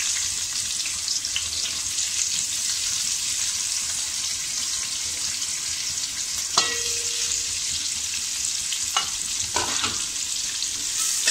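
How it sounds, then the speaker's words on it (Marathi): Onion sautéing in a pan over medium heat for prawn biryani gives a soft, continuous sizzle, broken by a few scraping stirs and clinks of a utensil against the pan, with no talking. "मध्यम गॅसवर छान असं परतून घ्यायचं आहे"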